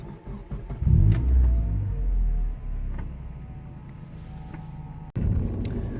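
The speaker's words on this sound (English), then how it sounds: "there's what it sounds like from inside when I start it" A Mazda 323F with a new exhaust starts and idles, heard from inside the cabin as a deep low rumble that swells after ignition and then settles, with a brief click near the end.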